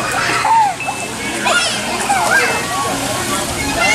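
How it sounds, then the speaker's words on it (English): Children splash and play in a small fountain in the middle of a resort pool, with water sloshing, kids' shrieks and chatter close by, and adult voices talking over it. "Got a little fountain that comes out there in the middle that the kids are having a good time playing in."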